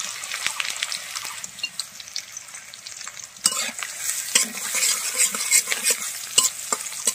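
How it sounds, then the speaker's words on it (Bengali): Dry red chilies, bay leaves, nigella seeds and cumin sizzle in hot mustard oil in a village kitchen, with a steady close crackle and sharp spits, and louder stirring scrapes joining partway through. "সরিষার তেল দিয়ে দিল, এখানে শুকনা মরিচ, তেজপাতা, কালো জিরা, জিরা সবকিছু একসাথে দিয়ে দিল"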